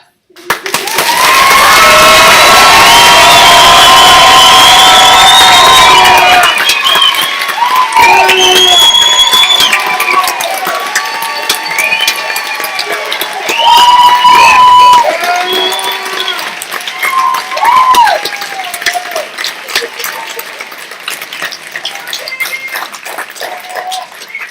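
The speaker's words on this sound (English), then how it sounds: "Please give another round of applause." Graduation ceremony audience bursts into loud, sustained applause and cheering, with whoops and shouts over dense clapping that holds steady for several seconds before thinning into scattered claps and voices.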